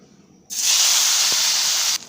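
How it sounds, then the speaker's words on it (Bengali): Salted, turmeric-coated eggplant pieces dropped into hot oil, giving a sudden loud steady hiss that starts after a short quiet moment and holds for about a second and a half before cutting off. "লবণ হলুদ দিয়ে মেখে নেওয়া বেগুনগুলো ভেজে নেব"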